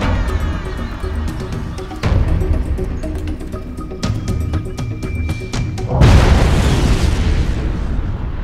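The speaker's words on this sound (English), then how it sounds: "10 kilograms of high explosive have been laid" A 10-kilogram high explosive charge detonates with a deep, loud boom and rolling broadband roar, after earlier thuds and a steady low rumble.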